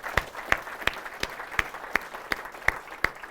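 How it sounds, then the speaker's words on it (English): Keynote audience at a partner day event claps in steady applause, a dense patter of hands with regular louder peaks roughly every third of a second, fairly close and continuous throughout. "Give you a round of applause."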